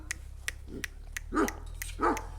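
Dogs at a kennel give a few sharp barks, close and loud, over a low steady hum, with short pauses between them.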